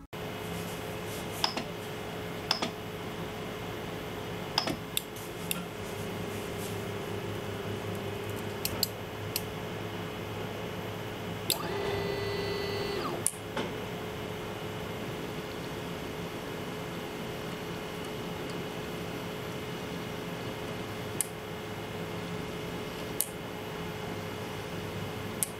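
A quiet 3D printer homing its axes with the extrusion nozzle cold and switched off: a soft steady hum and faint whir, with occasional small clicks and a brief louder buzz partway through.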